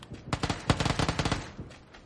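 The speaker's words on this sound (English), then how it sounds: "Was that person shooting at me then?" Rapid automatic gunfire in the PUBG video game, a dense rattling burst of closely spaced shots that swells to a peak and then trails off, loud and close with no talking.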